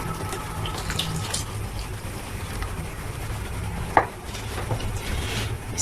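Milk and cream poured from a container into a pot for a custard, a continuous close gushing liquid stream at moderate level with a brief clink near the end.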